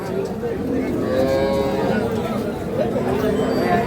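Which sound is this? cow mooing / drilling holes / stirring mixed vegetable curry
cow mooing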